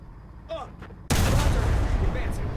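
An M18 tank fires its gun in a video game: a sudden loud blast followed by a sustained rumbling roar, after a brief murmur of voice.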